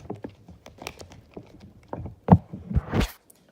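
A deck of playing cards shuffled during a tabletop wargame campaign, giving quick riffling patter and taps that end in a louder burst of card flutter, close and alone.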